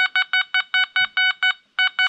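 A metal detector sweeping over a buried target in an old riverbed gives a sharp, repeated electronic beeping tone, about a dozen evenly spaced pulses, close and loud, with a brief gap near the end.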